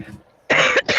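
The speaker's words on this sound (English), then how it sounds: "I am doing a lot of coughing" A person coughs twice in quick succession, each harsh burst loud and close, the first longer than the second, after a brief quiet pause.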